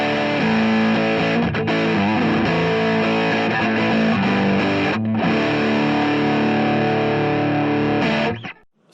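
Electric guitar through a 1981 Inventions distortion pedal, a dense sustained overdriven chord ringing loud and steady with brief breaks, then cutting off at the end.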